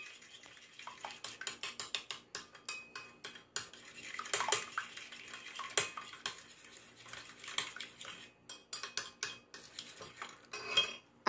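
Pancake batter of flour, baking powder and salt being mixed in a bowl: rapid, close clinking and scraping of a utensil against the dish in quick irregular bursts, with brief pauses.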